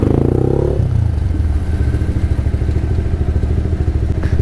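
Motorcycle engine idling and rumbling close by on a cold day, a steady low throb with some clatter, heard alone without talk.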